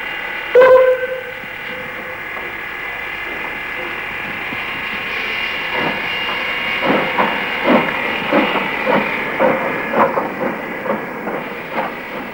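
A steam locomotive stands on a heritage railway line, a steady hiss running throughout, with a sharp burst near the start and a string of rhythmic chuffs or clanks building toward the end.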